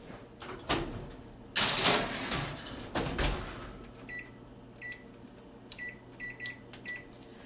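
A homemade keto low-carb lasagna goes into a kitchen oven: a door thuds shut, a few clunks follow, then a run of short electronic beeps as the timer is set, close and fairly quiet over a steady hum.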